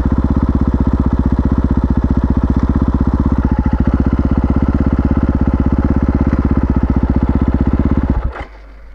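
A Husqvarna FE501 single-cylinder motorcycle engine idles loudly and close by with a steady, rapid thumping pulse, then cuts off abruptly near the end.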